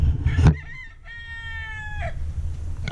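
A hen on a farm clucks and calls near the pen, a brief burst of scratchy noise followed by a drawn-out tonal cry, close and fairly loud with no talking.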